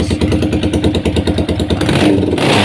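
Suzuki VZ400 motorcycle, modified, its engine revving up close with a fast pulsing throb that rises and swells toward the end, loud and steady with no talk.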